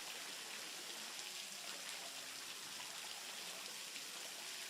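Water falls steadily into a rock basin in the Saint-Pons valley, a constant, even splashing rush with no breaks and no voices.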